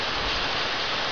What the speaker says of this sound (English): You can see the beautiful waterfall there.